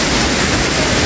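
Jhor Waterfall roars in a loud, steady, close rush of falling water, filling the moment with unbroken broadband noise and no voices.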